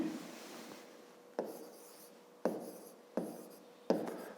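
Pen writing on paper during a fifth-grade maths exercise, soft scratchy strokes with several distinct taps as the pen touches down, quiet and close.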